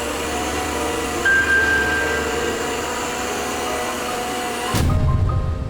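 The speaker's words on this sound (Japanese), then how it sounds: "さて掃除機を実際に稼働させてみたいと思います。" A robot vacuum cleaner from IKEA hums steadily with a whirring motor for several seconds, then the tone shifts abruptly near the end to a lower, rumbling drone.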